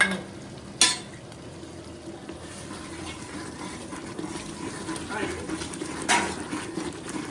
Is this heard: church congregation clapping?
no